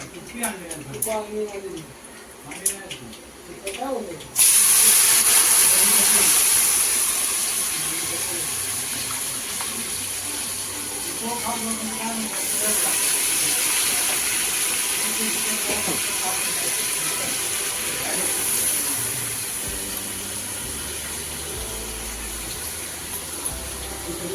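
Tap water gushes into a vessel while jackfruit pieces are set soaking before cooking a Malvani-style vegetable dish; the steady hissing rush starts a few seconds in and keeps running under a person talking.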